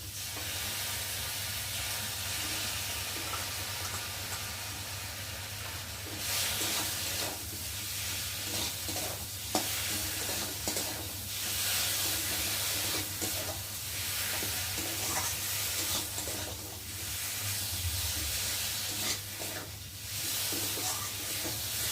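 Tilapia fish curry with green chillies and mustard paste stirred in a pan, a continuous hissing sizzle that swells and eases with the stirring over a low steady hum.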